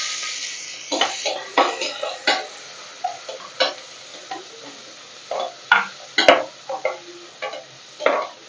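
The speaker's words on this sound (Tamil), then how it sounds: "ஆனியன் வந்து ப்ரௌன் கலர்ல வரணும், அது வரைக்கும் நம்ம ஃப்ரை பண்ணணும்" Onions fry in a pan with green chilli, bay leaf and cardamom powder for tomato rice, a steady hiss broken by repeated close scrapes and knocks of a spoon stirring, with no talk.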